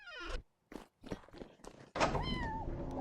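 A cat in the Vintage Story game meows twice, once briefly at the start and then a louder, longer meow near the end, with soft thumps and footsteps between.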